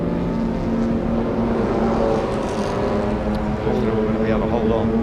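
Classic Jaguar E-Type race cars lap a circuit during qualifying, a steady roar of engines holding throughout, a second car's note rising toward the end, with a commentator talking over it.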